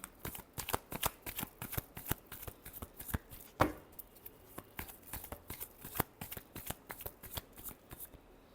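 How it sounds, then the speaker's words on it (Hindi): Tarot cards shuffled by hand in a quick, steady riffle of crisp papery snaps, near and clear with no talking, with one louder slap partway through. "Last shuffle."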